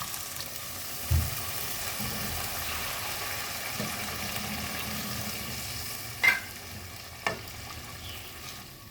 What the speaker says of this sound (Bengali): মশলাগুলো কষানো হয়ে গেছে, দিয়ে দেবো শিলনোড়া ধোয়া জল।